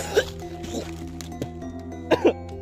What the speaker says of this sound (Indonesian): mohon maaf ya batuk